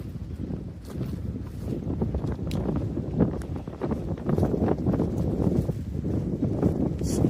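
Strong gusting wind on a brisk North Austin day at a disc golf course buffets the microphone in loud, low, uneven rumbles that swell and ebb without pause.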